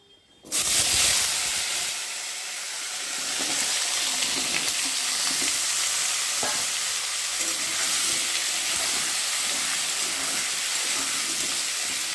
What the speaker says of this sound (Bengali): আর এখন আমি কেটে রাখা আলুগুলোকে দিয়ে ভালো করে ভেজে নেব।